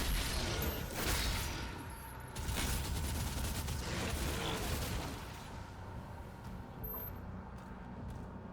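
A chunky energy weapon fires in Doom: The Dark Ages, several heavy, punchy bursts with crackling, mechanical tails in the first few seconds before easing into quieter rumbling combat noise, with no talking over it.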